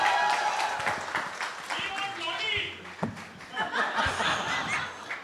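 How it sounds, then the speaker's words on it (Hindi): A live audience applauds and laughs for film director Siddharth Anand at a Pathaan event, with scattered clapping and chuckles swelling in bursts beneath an announcer's voice. "एक बार जोरदार ताली चाहिए सिद्धार्थ के लिए।"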